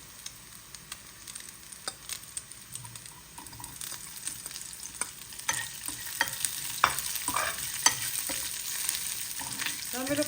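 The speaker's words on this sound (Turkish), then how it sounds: "Şimdi sosisleri koyalım." Sausages fry in a pan with a steady soft sizzle, broken by scattered crackles and pops that grow a little busier and louder over about ten seconds.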